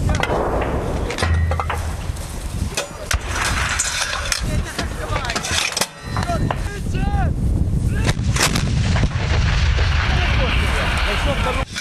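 Loud artillery blasts boom several times at irregular intervals, with mechanical clanking between shots and voices talking in the background.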